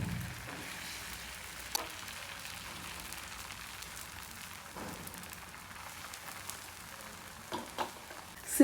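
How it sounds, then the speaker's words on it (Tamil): Beaten egg poured from a ladle into a hot pan for egg-only noodles, frying with a soft, steady crackling sizzle that stays faint throughout, ending with a couple of louder clinks. "இப்போ நம்ம பீட் பண்ணி வச்சுருக்கிற முட்டையிலேருந்து ஒரு கரண்டி அல்லது இன்னும் கொஞ்சம் சேர்த்தி இன்னொரு அரை கரண்டி ஊற்றிக்கலாம்"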